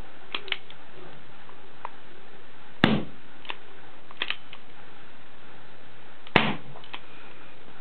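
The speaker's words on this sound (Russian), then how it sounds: "Для стрельбы с предварительного взвода взводим курок" Colt Government pistol being handled dry, with two sharp loud metallic snaps from the hammer and trigger releasing, plus several fainter clicks of cocking and mechanism movement against a quiet background.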